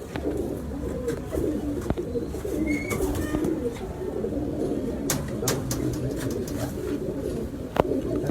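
Domestic flying pigeons cooing in a loft, low soft coos repeating under a steady background murmur, with a few brief sharp knocks and rustles.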